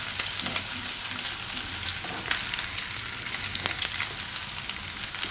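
Turmeric frying in hot oil for wheat-flour noodles, a steady close sizzle with faint stirring scrapes running throughout, no voices.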